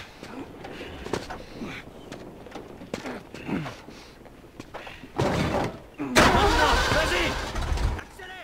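In The Last of Us video game, a car engine sputters and catches after clattering thumps and a door sound, growing louder toward the end while characters talk.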